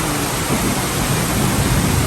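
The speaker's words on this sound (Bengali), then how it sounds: "বৃষ্টি হইতেছে মাসাল্লাহ অনেক বৃষ্টি" Heavy rain pours down as a dense, steady hiss that stays loud and even throughout, with no voices.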